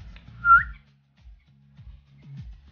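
A person gives one short, clear whistle to call a parrot chick indoors, close and brief, followed by faint low rustling.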